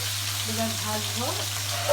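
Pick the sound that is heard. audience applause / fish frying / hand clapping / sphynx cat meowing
fish frying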